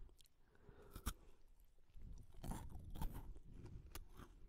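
Close, quiet crunching of a golden honeycomb snack from Australia, with irregular crisp bites and chewing that grow somewhat busier partway through, with no talking.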